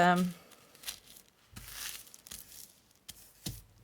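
A long strip of junk-journal paper being folded in half, with soft crinkling and rustling swells and a few sharper creasing sounds close by, quiet overall, and a brief voice at the start.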